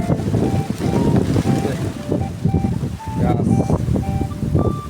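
Wind blows steadily outdoors with a constant rushing roar and buffeting against the microphone, loud and close throughout, with faint intermittent tonal sounds in the background.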